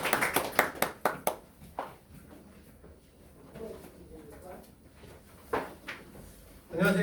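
A few sharp claps from a small audience at a school admissions information session burst out together at the start, then thin out quickly as a voice begins talking.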